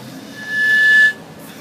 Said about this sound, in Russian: Давай еще пару свистулек.